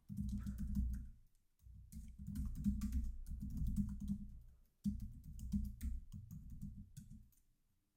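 Computer keyboard typing in a terminal: close, rapid key clatter in three bursts with short pauses between, the last burst trailing off, no voices.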